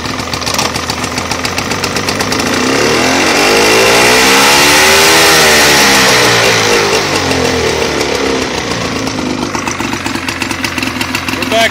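A Johnson 48 outboard motor on an Eldocraft boat runs in reverse, a loud steady engine drone that swells and rises in pitch mid-way before settling back, close up with no talking.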